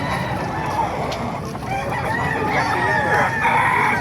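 A ten-month-old Sinibalang gamefowl rooster crows amid a dense, busy yard of other fowl, its call rising over steady clucking and background noise.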